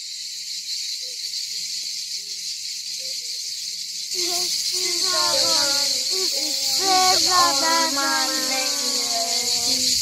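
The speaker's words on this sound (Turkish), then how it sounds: "Sadece cırcır böceklerinin sesi var." Steady high-pitched chirring of crickets in a forest fills the background throughout, with a voice or singing joining midway; no other speech.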